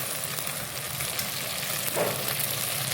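Ingredients fry in a pan for a village-style crab curry, giving a steady close sizzle with faint crackles throughout and no talking.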